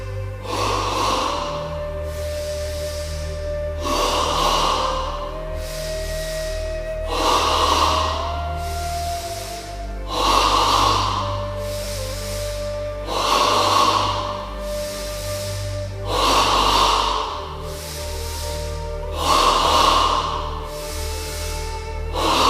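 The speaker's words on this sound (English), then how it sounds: "stage 1 double breathing in the abdomen 10 times" Yoga double abdominal breathing repeated in a steady cycle, about eight loud, close breaths with sharp nasal intakes and exhales spaced roughly every two to three seconds, no talking.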